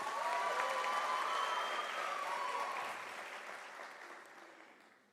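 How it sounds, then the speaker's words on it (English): Audience applause for newly graduated doctors at a University of South Africa autumn graduation ceremony, a steady dense clapping that stays loud for about three seconds, then thins and fades out. "Can we give them an applause, please?"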